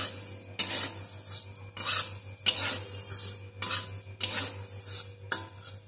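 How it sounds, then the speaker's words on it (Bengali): Puffed rice with chanachur and mustard oil is stirred and tossed in a pan, giving repeated dry scraping and rustling strokes in uneven bursts, close and clear, with no voices. "এখন আমি সমস্ত কিছুকে সুন্দর করে মিশিয়ে নেব।"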